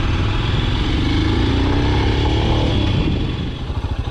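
A Royal Enfield Scram 411, a light-handling motorcycle, drones loudly and steadily while being ridden up close, its engine note holding even before easing off near the end.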